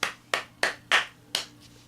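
Five sharp hand claps in a slow, slightly uneven rhythm, each crisp and close, with a short decay before the next.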